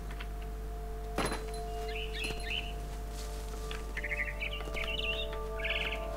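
A swallow in What Remains of Edith Finch gives several short, bright chirps in brief bursts, spaced a second or two apart against a steady low hum and faint ambient background.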